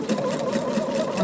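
A Pfaff sewing machine stitching a quilt runs in a steady, close, loud mechanical hum with a fast even needle rhythm, uninterrupted and without speech.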